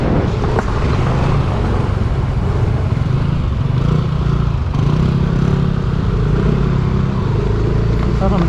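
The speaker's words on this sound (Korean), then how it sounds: "제 앞에 가는 오토바이도 주차장 입구를 찾고 있는 것 같습니다." A motorcycle ridden slowly through Manila traffic while hunting for a parking entrance gives a loud, continuous low engine drone mixed with wind buffeting, steady from start to finish.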